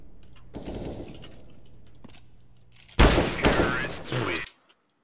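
Rapid gunfire bursts in the video game CS:GO, a short volley early on and then a louder, denser stretch of automatic fire near the end, close and sharp, with no talk over it.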